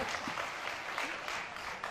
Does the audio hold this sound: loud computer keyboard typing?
no